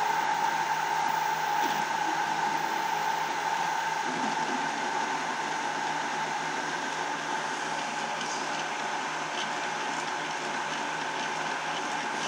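Celeritas 3D printer making a high-speed move during a 600 mm/s torture test, a steady whirring mechanical hum with motor whine that runs continuously at an even level throughout.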